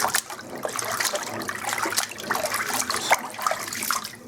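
Raw cut fries get a rinse in a bowl of water, which sloshes and trickles steadily at close range with no voices.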